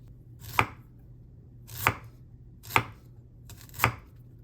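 A knife chops through pork slices on a board for a Chinese broccoli and pork stir-fry, four sharp, separate strikes spaced about a second apart, close and clear with no talk.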